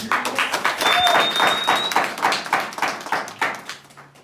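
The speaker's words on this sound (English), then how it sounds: "please give them the warmest round of applause" A crowd claps steadily for several seconds at an award ceremony, the applause fairly close and lively, with a few cheers rising over it before it gradually thins out.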